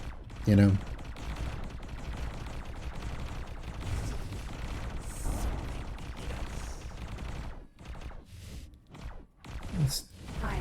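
Distant gunfire from ships in a space game rattles in steady low bursts under a rumbling background, with someone talking quietly over it.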